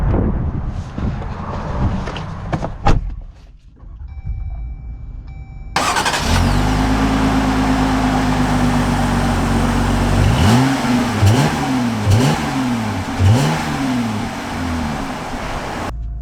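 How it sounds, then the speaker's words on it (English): A 2021 Jeep Gladiator Willys starts up, then its engine drones steadily from inside the cab before revving in several rising and falling surges as it pulls away, loud and close. "let's take this Willys Gladiator out and see how it drives."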